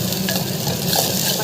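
Food sautés in a pan with a dense, loud sizzle and steady stirring, close and constant throughout, with no voices.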